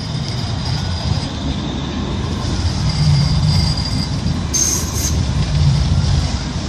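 A Metrolink tram passing at Deansgate Castlefield in Manchester, a steady low rumble of wheels on rails with a brief high squeal midway, heard close and continuous throughout.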